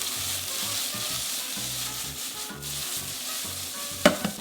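Mushrooms sizzling in butter in a hot pan, with a steady bright hiss close up, then a short clatter near the end as the pan is tossed, with no talking.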